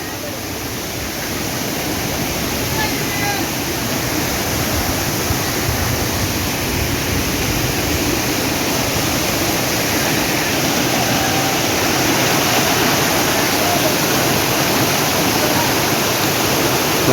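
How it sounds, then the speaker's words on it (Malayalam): A forest waterfall pours over rocks, giving a loud, dense, steady roar that holds constant throughout with no voices. "അടിപൊളി വെള്ളച്ചാട്ടമാണ് കേട്ടോ"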